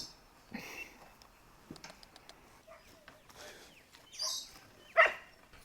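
Several dogs barking in short scattered bursts while greeting arriving visitors at a home, a hunter's dogs, with a sharper louder bark near the end amid background rustle.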